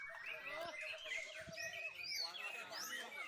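A white-rumped shama (murai batu) songbird sings from an uncovered cage, giving a steady run of bright, clear whistled phrases and quick chirps at close range, with faint low background noise.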